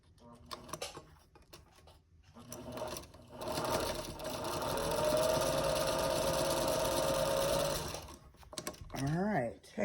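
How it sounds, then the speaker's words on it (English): A sewing machine stitches down the binding on a square quilt block, running steadily and fairly close for several seconds, with quiet handling and brief talk before and after the run. "Sew that other side down."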